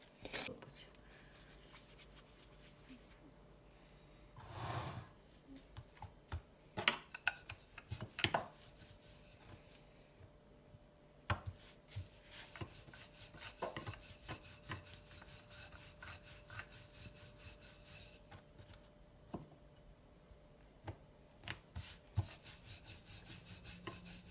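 A rolling pin works bhature dough on a board, giving soft intermittent rubbing and knocking strokes that are faint and irregular, with a few louder thumps and clatters along the way.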